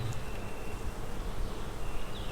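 Honeybees buzz around an open hive frame heavy with stored food, a dense continuous drone with no voices present.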